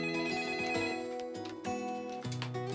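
A telephone rings in repeated electronic trills, loud and close, with no talking.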